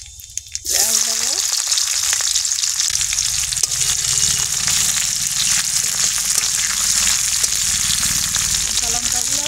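Onion dropped into hot oil with black cumin seeds, a sudden loud burst of sizzling that settles into a steady, dense crackle close by, with a short voice fragment at the start.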